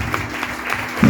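A church congregation applauding during a Mother's Day service, a brief patter of clapping that swells slightly toward the end, with a voice faintly underneath.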